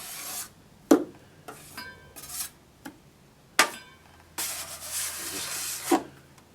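A 6-inch drywall knife scrapes dry joint-compound chunks off onto a scrap pile in a series of short, sharp rasping strokes with brief pauses, close by, plus one longer scraping pass near the end.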